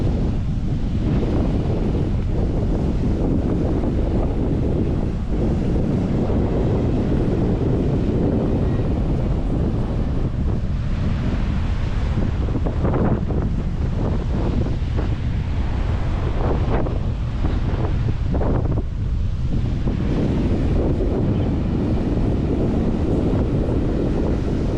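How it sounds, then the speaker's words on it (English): Big surf pounds a Florida east coast beach near a jetty during Hurricane Helene, a continuous loud roar of crashing waves with strong wind buffeting the microphone throughout, no voices. "Pretty big waves here at the beach."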